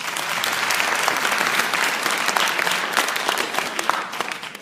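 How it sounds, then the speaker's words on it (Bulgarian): A political gathering audience in Gorna Oryahovitsa breaks into loud, steady applause, many hands clapping densely and close, fading slightly at the end. "аплодисменти за тях"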